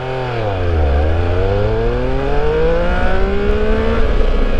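A 2021 Triumph Speed Triple 1200 RS motorcycle accelerating hard from a standstill, its engine note dipping then climbing steadily in a loud, close, rising roar with wind noise throughout.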